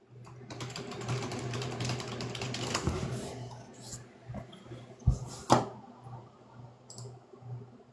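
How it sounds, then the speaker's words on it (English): Typing on a computer keyboard for ASMR gives a close, dense run of soft clicks over a steady low hum, thinning into a few louder, sharper taps and knocks toward the end. "This is ASMR live with keyboard typing."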